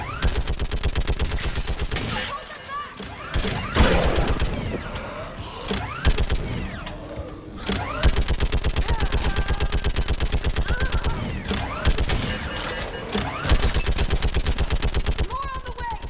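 Mounted gun emplacement firing rapid bursts in Mass Effect 3 during a Reaper siege of the asari homeworld, a dense mechanical rattle running almost continuously, loud and close with brief gaps, under battle noise and shouted voices.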